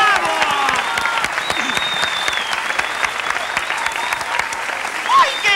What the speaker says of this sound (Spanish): ¡Aplauso para Ada!